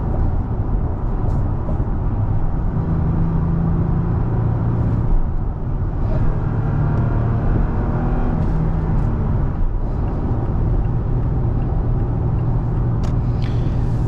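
Toyota Tacoma 2022 pickup with a 3.5-liter V6 and six-speed manual, heard from inside the cab while driving: a steady, loud low engine drone and road rumble throughout, with no talking.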